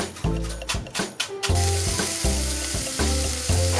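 Minced garlic and scallions land in a hot pan with a burst of sizzling that settles into a steady fry. Short scraping stirs break in at intervals, close and loud, with nobody speaking.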